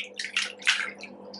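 Yarn is washed and massaged in soapy water, giving close, soft splashing and sloshing in a few quick bursts, with no talking.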